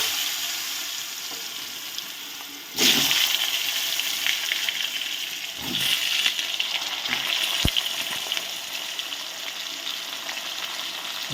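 Cut potatoes dropped into hot oil left over from frying fish, giving a loud burst of sizzling that settles into a steady crackling fry, with a few soft stirring scrapes and no talking.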